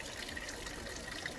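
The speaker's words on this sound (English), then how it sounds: "it's like a creek type waterfall" Water from a creek-style backyard pond waterfall spills down over the rocks in a continuous soft, hissing rush, steady and fairly quiet.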